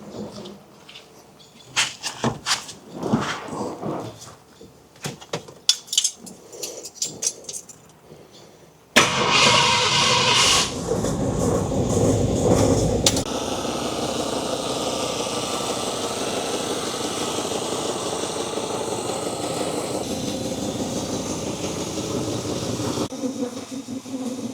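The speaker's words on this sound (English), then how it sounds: "hook the battery up, get it fired back up, let it run a little bit, let it get warmed up" An old car engine that has sat unused since 1992 is started after scattered knocks and clatter. It catches with a loud burst, then settles into a steady, fairly loud idle that runs on alone.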